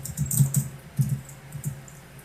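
Keystrokes on a computer keyboard as a password is entered during a Fedora setup in VMware, close and fairly loud, in short irregular bursts of a few taps with brief pauses.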